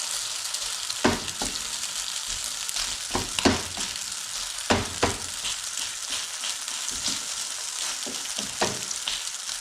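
Spicy corned beef and potato fritters frying in a pan, a constant dense sizzle up close with scattered scraping taps as the flattened patties are pressed and moved.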